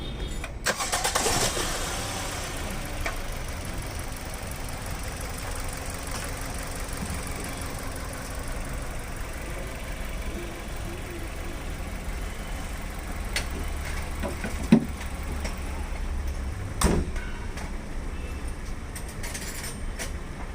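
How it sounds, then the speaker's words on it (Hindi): A Maruti Suzuki Ciaz car, fresh from a general service and clutch replacement, cranks and fires near the start, then settles into a steady, close idle that runs on without a break. "अब मैं गाड़ी स्टार्ट करके इसका साउंड सुनाता हूँ आपको।"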